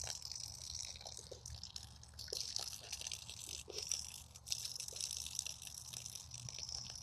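A Great Pyrenees dog drinking water, faint irregular lapping and splashing from a bowl with small drips, close but quiet, with no talking.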